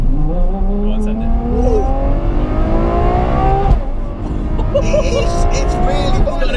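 A Ferrari F12 TDF accelerates hard, its engine note climbing through repeated rising sweeps with gear shifts in between, loud and close from inside the cabin, with voices talking over it.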